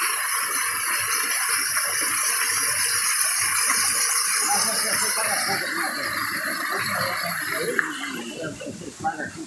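A waterfall on a cacao farm pours in a steady, loud rushing hiss close by, with water splashing over a person underneath, continuous throughout and slightly shifting toward the end.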